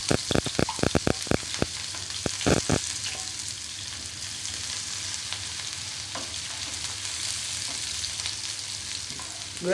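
Onions sizzling and frying in hot oil in a village-style kitchen, opening with several sharp clatters of a spoon on the pan before settling into a steady close crackle, with no talking.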